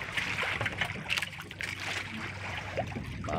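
Small waves lapping and splashing against a small fishing boat at sea, a continuous close watery slosh with light trickling, no talking.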